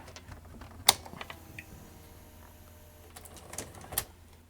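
A Panasonic NV-FS88 VCR mechanism runs back to its home position, with faint whirring and a few sharp mechanical clicks and clatters at the start and near the end.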